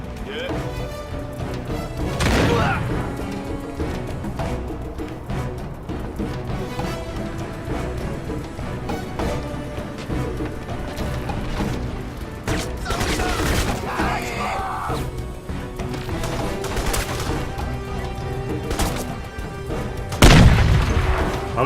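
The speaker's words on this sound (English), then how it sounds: "I think it was a smoke grenade." Booming blasts and bursts of gunfire erupt repeatedly through a loud Crysis firefight at max difficulty, including a thrown smoke grenade, over a dense ongoing battle din with voices at times.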